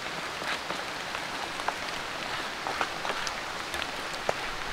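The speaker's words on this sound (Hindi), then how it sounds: "ओह, बारिश बढ़ गई, फिर लगता है अंदर भागना पड़ेगा।" Heavy rain pours steadily on a deep forest around a bushcraft shelter during an overnight camp, a dense continuous hiss dotted with sharper nearby drips and drop impacts, with no voices.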